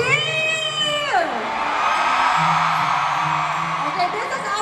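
A large crowd of fans cheers at a fan concert in Manila, a sustained mass of screaming and whooping that follows a rising, then falling shouted voice, with the roar holding steady throughout.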